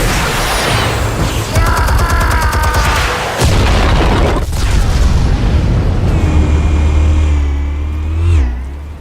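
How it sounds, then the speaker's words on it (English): Explosives detonate in a Batman video game cutscene, heavy booming blasts layered with roaring rumble and rising whines, loud and continuous throughout. "Explosives armed. Fire when ready."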